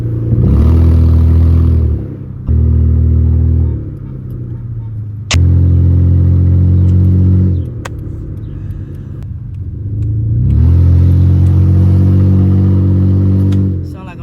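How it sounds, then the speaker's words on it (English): A damaged car's engine, rough and rumbling like a motorcycle, revs in long loud surges broken by brief dips, heard up close, with a voice talking partway through. "I actually recorded what the car sounds like so that y'all can get an idea."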